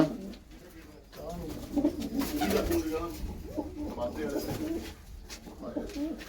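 Low, soft cooing of pigeons rolls on steadily, fairly close, blended with people talking nearby.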